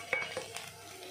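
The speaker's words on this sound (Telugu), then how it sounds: "ఒకసారి కలుపుతాను కలిసేలాగా" Okra (ladies finger) fry being mixed with salt and chili powder gives a short, quiet run of spoon scrapes and light clinks against the pan, close and with no talk.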